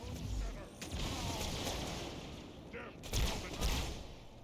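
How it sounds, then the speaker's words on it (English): Rapid gunfire from Halo, enemies and allies exchanging shots in the game, a steady rattle of weapons with a couple of louder bursts near the end. "my enemies are shooting at me and my allies"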